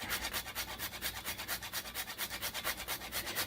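Spice grated onto a plate while making turkey sausage, heard as quick, evenly spaced rasping strokes, several per second, close and steady throughout with no talking.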